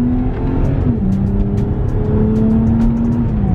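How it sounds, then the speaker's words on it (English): BMW 128i with an aftermarket intake on a downshift, the engine note rising in pitch with a throaty intake growl, heard from inside the car as a steady close drone. "if I downshift, you can hear it right there. You can hear the engine."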